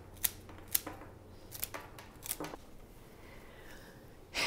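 Flower stems being snipped shorter with scissors or shears for a homemade bouquet, a few quiet sharp clicks spaced about half a second apart, followed by soft rustling of stems, close and faint with no talking.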